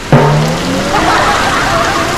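Steady rain hisses across the scene during a motorbike ride, with a brief vocal sound at the start and a faint tonal sweep fading under the downpour.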